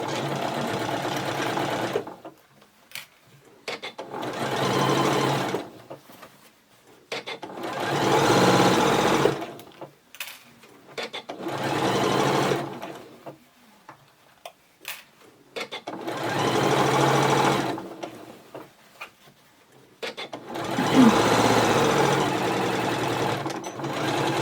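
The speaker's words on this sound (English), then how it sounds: "I'm going to just put it straight under the machine, remove the pins as I go and do a 1 centimetre seam allowance." Sewing machine stitching a 1 cm seam on a fabric bottle bag, running in six steady bursts of a few seconds each with short pauses between, close and fairly loud, with no talking.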